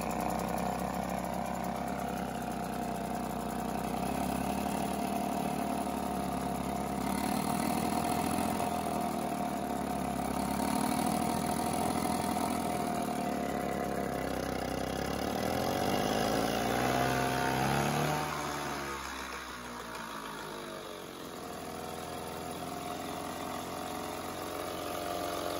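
A 1967 Mercury 3.9 hp outboard motor idles in a steady, fairly faint putter and then dips in pitch and level as it settles into a lower, slower idle, with no talking.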